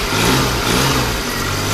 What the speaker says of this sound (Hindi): अभी हम गाड़ी को सलफ मार के स्टार्ट करके देख लेते हैं